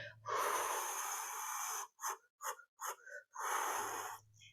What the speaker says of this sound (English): this last exhale, you've got to exhale all the air out